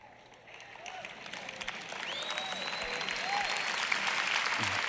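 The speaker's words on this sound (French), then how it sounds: "Ces applaudissements ont commencé plutôt faibles." Church audience applause at a Joyce Meyer sermon, starting thin and sparse and gradually swelling into fuller clapping, with scattered whoops and crowd voices rising over it.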